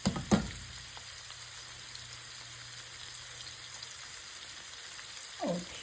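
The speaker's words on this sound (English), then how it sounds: "Once these fry a little bit and salt up a little bit" Sausages frying in a pan give a steady, close sizzle throughout, with a couple of sharp clatters at the start and a brief scrape near the end.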